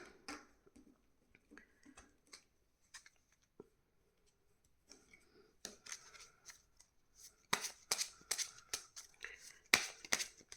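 Tarot cards shuffled and drawn by hand during a card reading: soft papery rustles early on, then brisker riffles and slaps that grow louder and denser toward the end, close and without talk.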